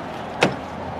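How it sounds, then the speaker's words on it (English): The driver's door of a 2020 fifth-generation Ram 1500 Rebel pickup is opened with a single short unlatching clunk, close by, over steady background hiss. "We're just going to pop the door open."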